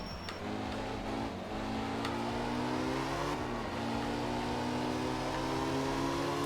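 A rally car engine in the video game Art of Rally revs hard and climbs steadily through the gears, with brief dips at shifts. The buzzy, close and loud sound is heard alone.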